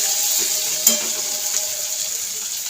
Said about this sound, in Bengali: টমেটোটাকেও ভালো করে ভাজা হয়ে গেছে